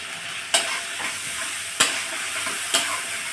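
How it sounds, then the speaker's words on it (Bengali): A masala seasoned with salt and turmeric fries on a lowered flame for a Bengali boal fish curry. It makes a continuous close sizzle, broken by three sharp spatula scrapes at roughly even intervals. "গ্যাসের জালটা একটু কমিয়ে দেব, দিয়ে সুন্দর করে মশলাটা কষিয়ে নেব।"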